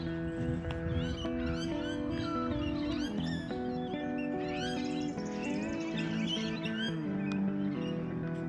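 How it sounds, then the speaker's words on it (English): A long-billed corella calls out on a farm with other birds around, its harsh screeching cries repeating over a loud, busy background of overlapping chatter and calls. "And a long-billed corella up there."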